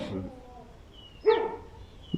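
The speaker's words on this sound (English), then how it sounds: "these dogs barking all crazy" Dogs bark in a sudden excited burst, a couple of sharp barks rising after a stretch of talk, followed by a single short yip, fairly close and loud over low background noise.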